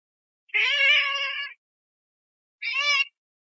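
A cat meows twice, close and clear: a long, drawn-out meow, then a pause and a shorter second meow, with silence around them.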